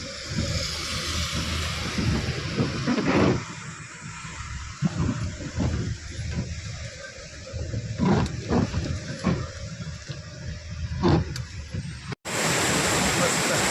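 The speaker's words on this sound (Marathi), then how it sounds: "धबधबा मोठ्या प्रमाणात आहे" A large waterfall in the ghat on the Chiplun–Koyna route roars steadily nearby in August, a dense, unbroken rush of water with occasional gusts buffeting the microphone.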